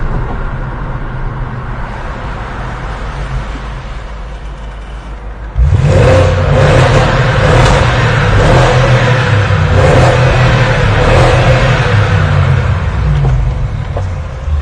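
A BMW 645i E63 with the N62 V8 idles with a low exhaust burble, then opens up into loud, sustained revving that stays up close and steady for the rest of the clip, with no talk over it.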